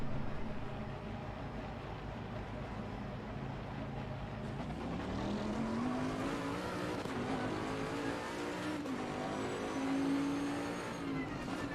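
Race car engine in the video game Assetto Corsa drones steadily throughout, with gear-linked pitch rising in sweeps as the car accelerates, then dipping and climbing again near the end; loud and continuous, no talking.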